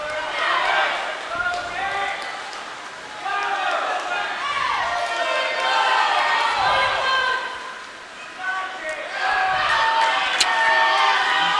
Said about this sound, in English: Coaches and swimmers definitely cheering on